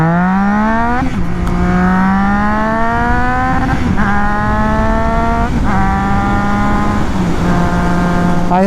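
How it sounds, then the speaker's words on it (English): A Triumph Trident 660 triple revving hard through close gears, its engine note climbing and falling again, cut off abruptly several times at the rev limiter, loud and close with wind noise. "I hit the rev limiter again twice."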